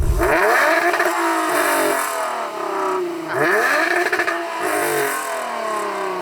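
A Range Rover Sport with a valved aftermarket exhaust set to its loud mode revs hard twice, each rev rising into a loud raspy roar before dropping back to a rumbling idle, close by and alone.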